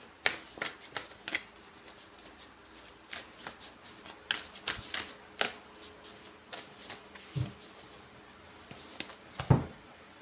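A large deck of 111 tarot cards is shuffled and cut by hand, giving a close, continuous run of riffling and slapping card sounds with crisp flicks, and no voices.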